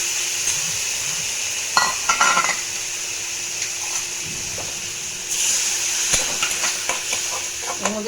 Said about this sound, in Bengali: আদা রসুন লঙ্কার পেস্ট দিয়ে দিচ্ছি, দিয়ে আর একটু ভাজা ভাজা করবো।